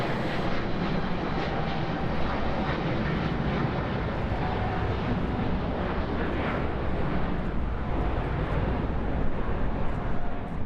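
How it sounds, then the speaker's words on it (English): An Emirates Boeing 777-300ER airliner at LAX roars with loud, sustained jet engine noise and a broad rushing rumble that holds throughout, with wind buffeting the microphone. "Certainly something you don't see at LAX anymore, the Emirates 777-300ER."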